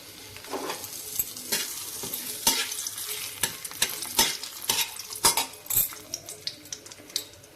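Cashews and raisins fry in ghee with steady sizzling, while a spoon stirs and scrapes the pan in quick, irregular knocks throughout.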